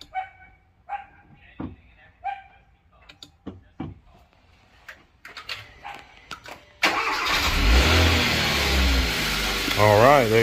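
A Hyundai Sonata engine cranks and catches after a jump start from a Noco GB15 booster, settling into a loud steady idle; before that a dog barks several times nearby.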